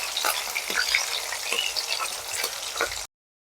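Hilsa fish fries in hot oil in a pan after being flipped, a continuous close crackling sizzle with small popping spatters throughout, cutting off abruptly after about three seconds; no one talks.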